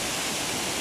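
The Lúčky waterfall in Slovakia roars as a steady, dense rush of falling water, loud and continuous throughout the short stretch.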